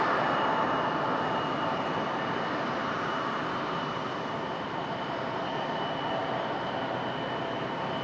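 A JetBlue airliner taxis close by at Raleigh-Durham International Airport, giving off a continuous broadband engine roar with a faint high whine, steady and fairly loud throughout.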